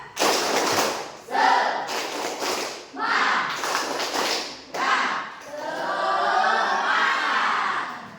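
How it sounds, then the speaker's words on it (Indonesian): A class of students does a spirited rhythmic clap in a classroom, several loud bursts of hand claps and group chanting separated by short pauses, close and lively. "Oke, coba tepuk semangat."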